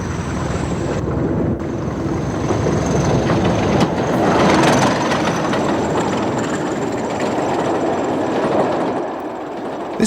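A British Rail Class 20 diesel locomotive hauls a Skegness to Derby passenger train, its engine and rolling wheels forming a loud continuous rumble that swells past and then eases slightly.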